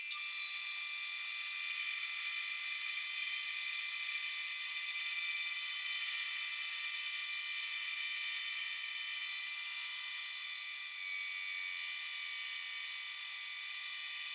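A band saw fitted with a 1/2-inch wide, 8 teeth-per-inch Timberwolf blade resaws a 2-inch thick board into thin strips for guitar bindings, giving a steady, fairly quiet high-pitched whine that runs unbroken throughout.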